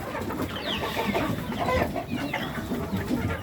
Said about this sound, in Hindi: ये फ्योमी बड़े जो हैं वो खा रहे हैं, गोल्डन मिस्री भी हैं बीच में